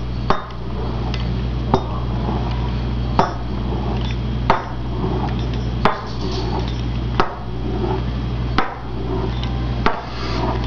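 A knife chops dumpling dough into small squares on a board, giving about eight sharp, evenly spaced knocks over a steady low hum, with no talking.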